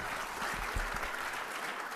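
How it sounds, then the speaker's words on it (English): An audience at a mayor's accountability report event applauds briefly, a soft even patter of clapping heard at a distance, with a faint voice underneath. "Give them a big round of applause."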